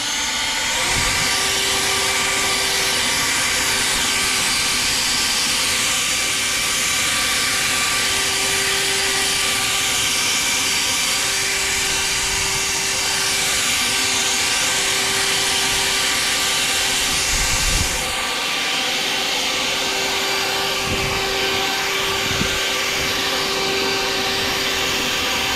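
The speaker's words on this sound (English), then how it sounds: "This is my Ego blower." An Ego battery-powered leaf blower running in turbo mode, a loud, steady, high whooshing roar that holds for the whole stretch with faint low thumps underneath, close up and with no one speaking.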